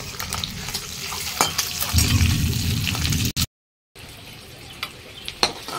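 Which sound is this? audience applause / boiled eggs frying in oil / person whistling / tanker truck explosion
boiled eggs frying in oil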